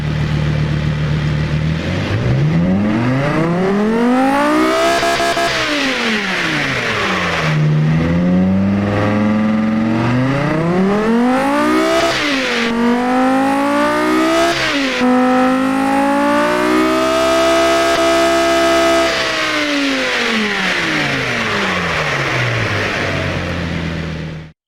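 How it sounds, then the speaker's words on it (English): A simulated car engine from the Automation car-building game, a mid-engine layout with dual exhaust, revs up and down in long sweeping waves, a loud continuous buzzing drone that rises in pitch through the gears and falls back, with no talk. "let's get a hear of what this engine sounds like right now."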